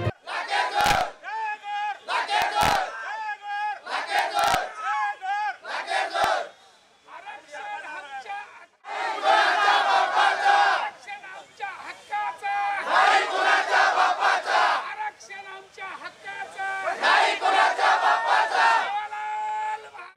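Large crowd of Banjara community marchers chanting loudly at a protest march in Thane, rhythmic bursts of massed voices rising and falling in waves, close and continuous with brief lulls between chants.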